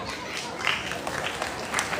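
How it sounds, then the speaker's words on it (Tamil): An audience claps to welcome performers onto the stage at a cultural fire-walking event, a short, moderately quiet burst of applause mixed with crowd noise. "பலத்த கரகோஷத்துடன்"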